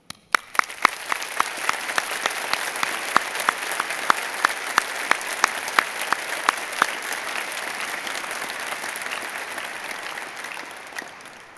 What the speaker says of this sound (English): may we all please start by applauding all of our graduands